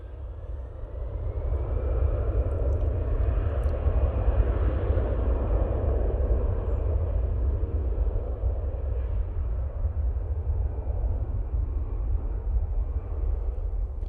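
An EasyJet airliner departs for Munich, its jet engines a loud, steady roar that holds throughout with a slight swell near the middle, no voices present.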